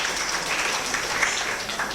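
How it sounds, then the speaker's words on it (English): An audience at a Rotary club installation event applauds a member, a soft, steady wash of clapping from a crowd, heard somewhat distant and without talk. "Let's clap for him."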